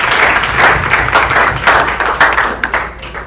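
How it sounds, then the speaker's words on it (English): Conference audience applauding at a women's conference, a steady wash of many hands clapping close and loud for about three seconds, swelling slightly before tapering off at the end. "Round of applause."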